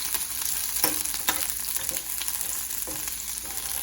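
Ingredients sauteing in a hot pan for small onion sambar give a steady, close sizzle, with a few soft stirring scrapes and taps at intervals.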